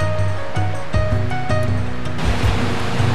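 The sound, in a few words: small waterfalls on a mountain river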